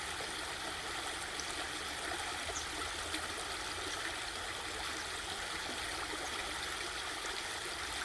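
A creek flowing along a stony bank, a soft steady hiss and trickle of running water, even and unbroken throughout.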